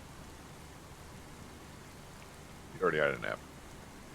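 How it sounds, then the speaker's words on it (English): Rain falling on a logging site, a steady soft hiss that continues evenly throughout, with a person briefly speaking near the end. "This rain's wanting to put me to sleep."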